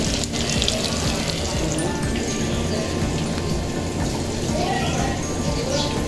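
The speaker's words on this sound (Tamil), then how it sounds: "கருவாடெல்லாம் நல்லா பொரிச்சு எடுத்துக்கணும். இப்போ பாருங்கள், கருவாடு நல்லா பொரிஞ்சிருச்சு." Dry fish sizzles in hot oil with a dense, continuous crackle that holds at a fairly loud, even level throughout.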